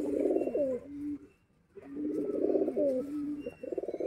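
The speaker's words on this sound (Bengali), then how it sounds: "এই যে দেখো দুম, একদম বন্ধ দুমের পায়রা।" Closed-tail pigeons coo loudly nearby, two long bubbling coo phrases separated by a short silence, then a quick fluttering burst at the end.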